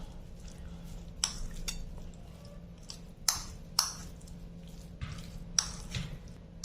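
A spoon stirs a teaspoon of pickle spice masala for dried mango pickle, producing sharp metallic clinks and taps against the bowl every second or so over a quiet, low hum, with no talking.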